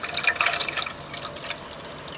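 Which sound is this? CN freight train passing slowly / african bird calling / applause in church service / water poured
water poured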